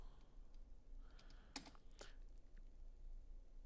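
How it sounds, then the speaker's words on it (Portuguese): Fingers tap out a scattered run of keystrokes on a computer keyboard, faint and close, with a few sharper key clicks in the middle and no talking over them. "agora eu vou continuar digitando"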